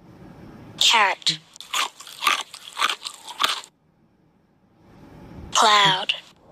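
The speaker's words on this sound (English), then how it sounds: "Carrot." Someone crunches into a carrot with a quick run of five or six loud, crisp bites, close up, bracketed by a spoken word on each side.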